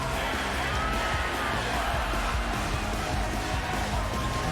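Crowd cheering and whooping at a men's master melee tournament, a steady dense roar of voices with shouts rising throughout, close and loud.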